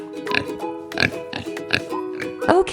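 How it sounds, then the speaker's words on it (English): Pig oinking in a farm animal guessing quiz for kids: a series of about five short grunts spaced through the clip, close and fairly loud, with no talking. "Pig."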